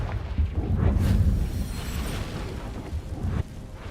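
The Confringo explosion spell goes off in Hogwarts Legacy with a heavy, rumbling boom that swells and then slowly decays. A second, softer thud follows near the end, with no voices over it.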